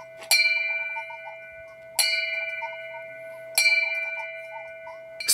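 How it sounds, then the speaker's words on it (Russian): Ship's bell tolling at a Kursk submarine memorial service: three loud, evenly spaced strikes about every 1.6 seconds, each ringing out with a long metallic decay, a fourth stroke beginning at the end. "Сто 118 ударов судового колокола по числу погибших в этой трагедии."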